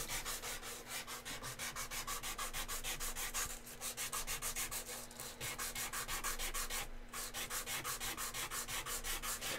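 A part is hand-sanded with sandpaper in fast, regular back-and-forth strokes, a steady rhythmic scratchy rubbing that is close but fairly quiet, with a faint hum underneath and no speech.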